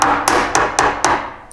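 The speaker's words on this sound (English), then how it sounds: "That nice clean little snap." Spot welds on a Nissan Skyline GTT quarter panel being split with a sharp-edged tool driven between two layers of car sheet metal: five sharp metallic hammer taps at a steady pace, close and loud, with no talking.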